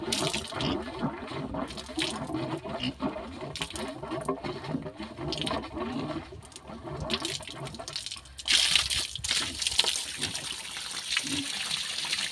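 Water splashing and trickling while a pet is bathed, a steady wet, sloshing texture throughout with a brighter burst of splashing near the end and faint background voices.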